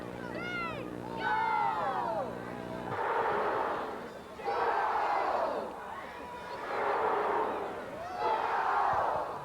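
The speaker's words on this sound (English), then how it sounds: "gets the Pueblo Crusaders fans involved in the game by a little controlled mayhem as the crowd yells" A football crowd of Pueblo Crusaders fans yells in rhythmic bursts during a 1988 national semifinal game, four swelling roars rising and falling after a brief whistle-like chant at the start, with some voices mixed in.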